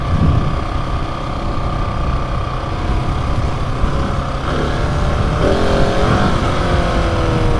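A brand-new KTM 701 Enduro motorcycle engine hums smoothly while the bike is ridden, a loud steady drone with slight rises in pitch and wind rushing past.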